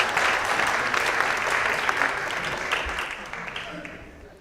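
An audience at a Peralta Colleges flex day gathering breaks into sustained applause after a speech line, a broad, steady wash of clapping that gradually tapers, with a voice faintly heard beneath it.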